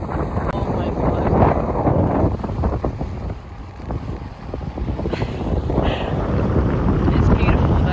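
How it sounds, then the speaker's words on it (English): Strong coastal gusts batter the microphone in loud, rumbling bursts on the Fife Coastal Path between Burntisland and Kirkcaldy, with water sloshing nearby and a voice talking under the roar. "probably can't even hear me because it's so fucking windy"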